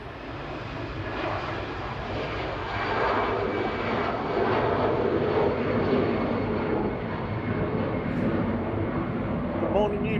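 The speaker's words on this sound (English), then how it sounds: "easyJet's G-UZLM heading off to Nice with flight 2103, A320 Classic lifting off now" An easyJet Airbus A320 Classic jet lifts off from Manchester Airport on departure to Nice, its engines a broad, steady roar that swells slightly and holds at close range throughout, with faint talk underneath.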